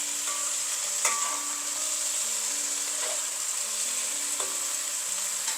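Beef sears in a hot pan with a steady, dense sizzle that runs throughout, with a few sharp clinks and stirring knocks as the meat is moved and flipped; no talking.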